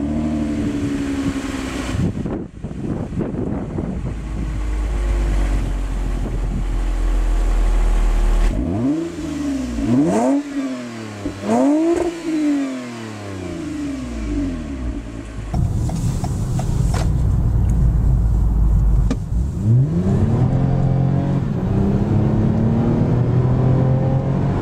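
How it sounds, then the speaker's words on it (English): A 2021 Toyota Camry TRD with a V6 and TRD exhaust system, revving repeatedly in sharp rising bursts, then a longer steady engine drone up close. "It has a TRD exhaust system, which sounds good, but it actually adds no power."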